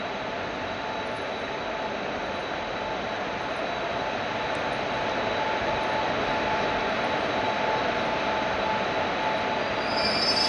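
A train locomotive rolls through Kasara station in a steady, loud, continuous rumble with faint wheel squeal and a sustained tonal hum, swelling slightly toward the end.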